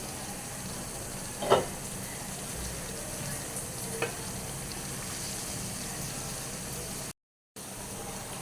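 Dried fish and taro stolons frying in a pan, a quiet continuous sizzle with a couple of short sharp utensil scrapes as the mix is stirred, briefly cut to silence near the end.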